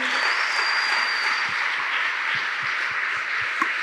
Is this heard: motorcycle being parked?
no